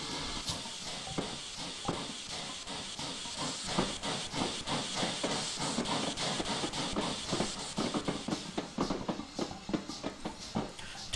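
A steam locomotive, a 14xx tank engine on a 1950s Riviera line in Train Simulator 2016, gives off a continuous loud hiss of escaping steam with faint rhythmic chuffing beneath it.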